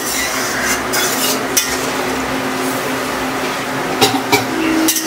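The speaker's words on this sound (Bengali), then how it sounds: "একটু নাড়িয়ে চাড়িয়ে তারপর ঢাকা দেবো নাকি?" Greens, potato and lentil dumplings stirred in a pan as they cook with water, a steady wet scraping and sizzle with a few sharper utensil knocks, close and alone.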